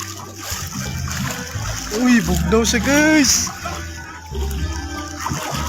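Seawater at a white-sand beach in Magsaysay, Misamis Oriental, splashes in a few close bursts as someone wades in to test its temperature, while people talk and exclaim throughout.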